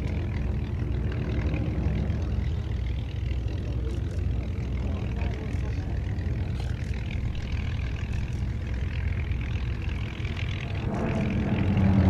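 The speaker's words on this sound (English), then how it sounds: "He's on the left wing of this formation, flying that P-51." P-51 propeller aircraft flying in an airshow formation at Sywell, a steady low engine drone heard continuously at moderate distance, with a commentator talking over it.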